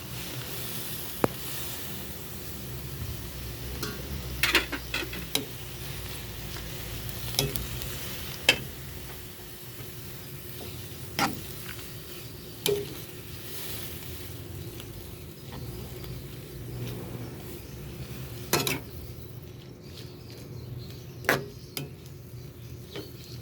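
Shredded cabbage cooking in a pan for ginisang repolyo with century tuna, a low, steady sizzle and fry under repeated soft scrapes and knocks of stirring, spread irregularly throughout.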